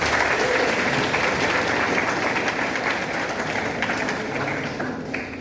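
An audience applauds itself at the close of a talk session, a continuous, moderately loud wash of many hands clapping throughout that thins slightly toward the end.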